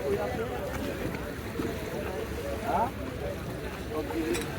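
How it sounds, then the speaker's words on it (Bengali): A fishing trawler pulls in at a Padma riverside ghat by a busy fish market, its steady engine rumble and water wash running under constant crowd chatter and nearby voices. "এই মুহূর্তে একটা ট্রলার আসলো"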